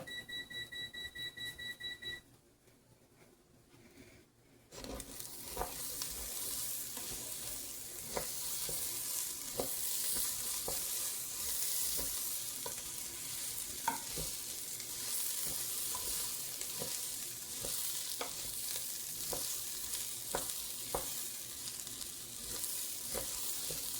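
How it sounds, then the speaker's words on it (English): Onion cooking down in a pot for one-pot chicken orzo sizzles steadily and fairly loud after a few electronic beeps and a brief quiet gap, with periodic scrapes and taps of stirring. "I'll just add my onion right now. Cook down my onion."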